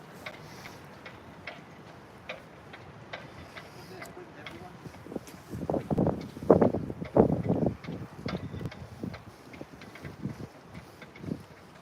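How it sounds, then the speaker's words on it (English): Wind gusting across a boat yard by the water, a low buffeting roar that swells for a few seconds midway and then eases back into a quieter, steady breeze. "Oh, here come them winds again."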